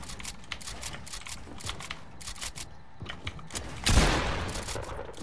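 Gunfire in a shooting video game: rapid rattling bursts of shots, with a louder, denser volley near the end, heard alone without talk.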